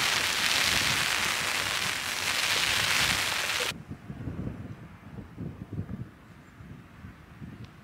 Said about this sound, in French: Là c'est déluge.